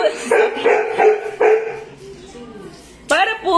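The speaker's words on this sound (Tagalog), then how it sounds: "ang ingay ng aso" A dog barks repeatedly, several sharp close barks in a quick series, a pause, then one more loud bark near the end.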